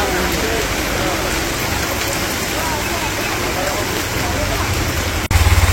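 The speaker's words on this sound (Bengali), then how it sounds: "এমন বৃষ্টিতে পড়লাম, এখন তো 1 ঘন্টা মনে বৃষ্টি যাইব না" Heavy rain pours at a village market, making a dense, constant roar of drops on surfaces that stays loud and even throughout, with a brief thump near the end.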